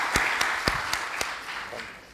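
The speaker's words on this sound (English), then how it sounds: "you have received huge applause here." Audience applause after a presentation at an agriculture conference, a few distinct claps over a wider soft wash of clapping that fades out after about two seconds.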